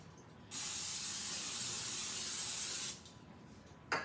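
One continuous hiss of cooking spray onto a cake pan lasting a couple of seconds, close and steady, followed by a faint clink.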